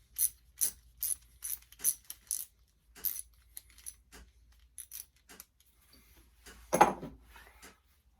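A nylock nut is tightened onto sheep hoof trimmers in a series of sharp metallic clicks and ratcheting ticks, spaced irregularly and close up in an otherwise quiet room, ending with one louder clack.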